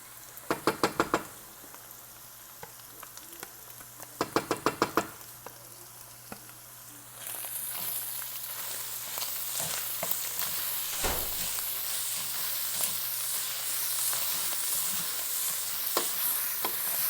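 Bolognese sauce with tomato paste cooking in a pan, with two quick bursts of a spoon knocking against the pan, then a steady, close sizzle and bubbling as the sauce is stirred.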